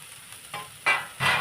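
A grated radish, carrot, coriander, fenugreek and salt mixture sautéing in oil on a low flame makes three short stirring swishes over a soft background sizzle.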